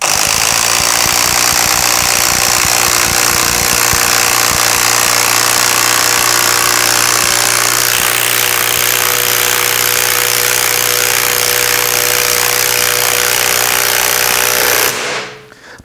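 A cordless impact driver sinking a screw into wood, a loud continuous rattling hammer-buzz held close for about fifteen seconds before cutting off abruptly.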